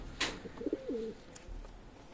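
A pigeon gives a soft, low cooing call once, fairly quiet against a light background hiss, with a brief sharp noise just before.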